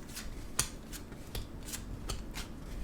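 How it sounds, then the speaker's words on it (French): Lenormand cards being shuffled by hand for a tarot-style reading, a run of soft, crisp riffling swishes and flicks repeating at an irregular pace, close and fairly quiet, with no talking. "on va bien mélanger nos Lenormand"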